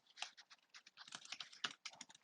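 Rapid close keystrokes clatter on a computer keyboard in an uneven burst, quiet and with no talking.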